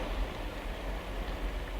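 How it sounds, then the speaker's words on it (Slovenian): Steady rain falls continuously, a dense even hiss of drops on surfaces with no gaps, fairly close and unbroken, with no voices. "Danes ves dan dežuje."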